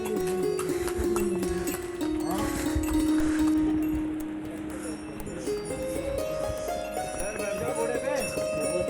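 Horses walk a mountain pilgrimage trail to Yamunotri, their hooves clip-clopping steadily and moderately close amid a busy outdoor bustle, with people talking over them.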